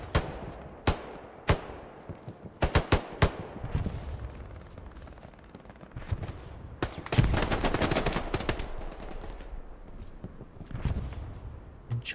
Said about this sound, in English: Already gets killed by an MG.